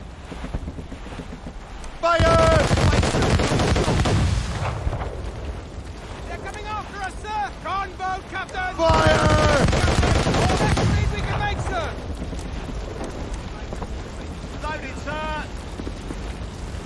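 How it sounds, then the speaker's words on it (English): Ship mortars fire in Assassin's Creed Rogue, two heavy booming blasts a few seconds apart, each rumbling out into a long tail, with voices shouting between and after them. "Fire our mortars, Captain!"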